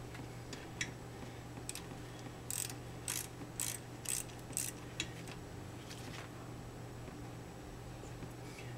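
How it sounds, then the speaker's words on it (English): A wrench tightens the brake bleeder valves on a Corvette, giving a quiet series of sharp ratchet-like clicks, including a quick run of five bright ticks mid-clip, over a low steady hum. "We'll go ahead and tighten these valves."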